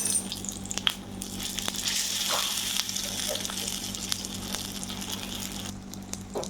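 Fritters of pointed gourd, poppy seed and ash gourd leaves fry in oil with a constant moderate sizzle and scattered small pops and clinks of the pan. A faint voice sits low beneath it.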